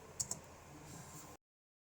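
Brief typing on a computer keyboard, a couple of quick distinct key clicks followed by faint light tapping, close and quiet, ending abruptly in silence.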